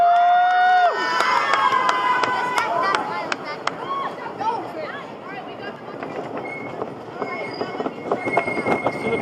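Grizzly, a PTC wooden roller coaster at Kings Dominion, rolling along its track with rattling, clacking wheels and squealing tones, loud and close, over crowd noise and shouting.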